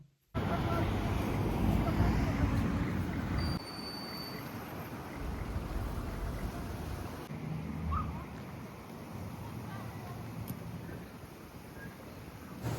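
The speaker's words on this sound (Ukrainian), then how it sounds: "Такий вітерець холодний, навіть руки мерзнуть." A cold breeze blows steadily through a seaside park in Chornomorsk on a chilly day, giving a broad, continuous rush of wind buffeting the microphone, loudest near the start and easing slightly later.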